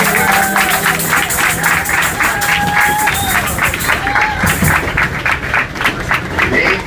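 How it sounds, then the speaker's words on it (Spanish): Loud audience applause and cheering after a live band's performance, with dense continuous clapping and crowd noise, punctuated by brief whistles, lasting the whole stretch. "Gracias, fuerte el aplauso."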